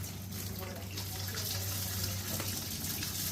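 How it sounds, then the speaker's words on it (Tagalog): Water runs steadily from a kitchen tap during dishwashing, a continuous close rushing splash that holds even for the whole moment, with a faint low hum underneath. "Kailangan makontrol mo yung pagdaloy ng tubig pag hindi nagamit"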